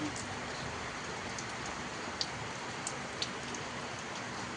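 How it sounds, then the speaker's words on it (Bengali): A downpour of heavy rain makes an even, close wash of noise, dotted with a few sharper drop impacts on nearby surfaces. "মুষলধারে বৃষ্টি হচ্ছে"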